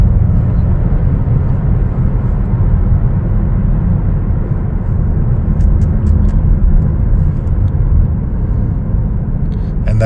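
A 2024 Chevrolet Trailblazer AWD LS accelerating on a test drive, with a loud, steady engine and road rumble heard from inside the cabin for ten seconds.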